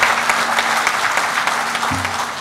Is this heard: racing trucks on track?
no